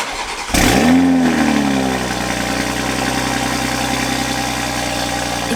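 A 2020 Toyota Supra with an aftermarket downpipe and stock exhaust cranks and fires up with a sharp rev, then settles into a deep, rumbling idle that continues steadily, loud and close.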